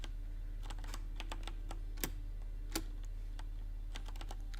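Irregular clicks of typing on a computer keyboard, close and clear with a couple of sharper key strikes, over a steady low electrical hum.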